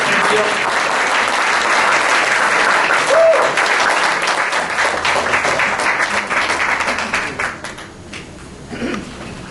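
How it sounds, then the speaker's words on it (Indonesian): Church congregation applauding at a Sunday service, dense sustained clapping from many hands that swells and then thins toward the end, with some voices mixed in. "berikan tepuk tangan untuk firman Tuhan"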